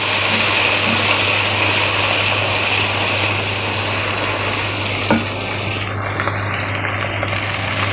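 Loud, continuous sizzling and crackling of ginger and garlic frying in hot oil with onions for palak chicken, with a low steady hum underneath and occasional stirring clinks.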